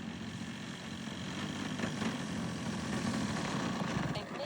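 Extreme Flight 91-inch Extra 300 RC plane with a DA70 gas engine coming in to land at low idle, a steady droning engine hum with a gentle rise in level as it approaches.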